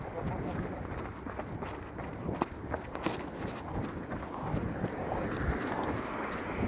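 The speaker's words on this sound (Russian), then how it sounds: "просто тут ветреный участок" Wind buffets and rumbles across the microphone in a windy outdoor stretch, a steady broadband roar with occasional louder gusts and faint footsteps, with no talk over it.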